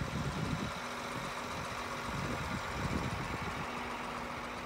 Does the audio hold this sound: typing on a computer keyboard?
no